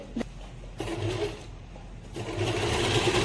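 An Usha Janome Excella sewing machine stitches fabric in a short, steady mechanical whir with a faint rhythmic needle chatter, close and continuous, no voices.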